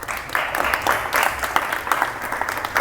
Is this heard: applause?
yes